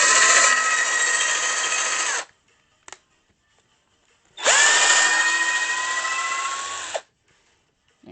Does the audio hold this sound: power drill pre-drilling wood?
yes